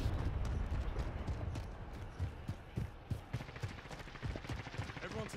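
Sniper fire during a Call of Duty Warzone match, heard as repeated sharp cracks spread through a busy, noisy game mix, with someone talking over it.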